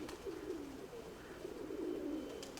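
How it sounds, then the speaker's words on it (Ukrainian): A pigeon coos in soft repeated rolling phrases, fairly close and clear over a quiet background, without any talk. "Голубок."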